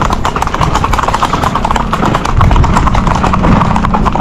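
Horse hooves clip-clop steadily up a slope as a trained horse climbs the hill, a dense continuous run of close, fairly loud steps with no talking over them.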